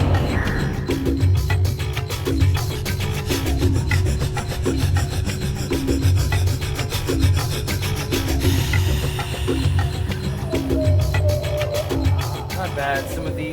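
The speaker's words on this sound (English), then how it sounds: "and I'm going to go ahead and do some grinding." A Bowie knife made from a lawnmower blade is worked by hand in a shop, producing a steady, loud rasping and scraping rhythm of repeated strokes.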